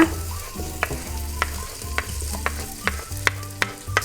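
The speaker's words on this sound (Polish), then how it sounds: "W dużym garnku rozgrzać olej. Przekładamy marchewkę i cebulę" Carrot and onion sizzle and crackle in hot oil in a large pot, with a utensil stirring and scraping every half second or so, close and continuous.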